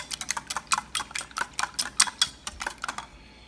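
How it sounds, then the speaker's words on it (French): Beaten eggs and cream being whisked for a spinach quiche, a quick run of about twenty light, crisp ticks of a whisk against a bowl, steady and close, with no voice over them. "On va battre le tout bien comme il faut."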